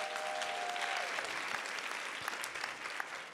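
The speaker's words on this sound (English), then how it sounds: "let's give them a big round of applause" Applause from the audience at a women's summit for performers spread out on stage, a sustained, even roar of many hands clapping, fairly faint and distant, with a few sharper claps standing out near the end.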